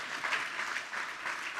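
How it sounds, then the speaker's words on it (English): Audience applause at a housing solutions event, a short burst of steady clapping from a roomful of people, moderately loud and alone. "Okay, we can clap now."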